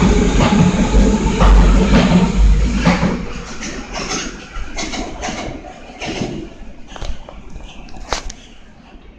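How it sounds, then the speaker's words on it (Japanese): Loud rumbling subway train noise in an enclosed station on the Nagoya Higashiyama Line, with rattling, clanks and hiss fading gradually as the train moves, no one speaking. "それでは次の電車に乗りますね。"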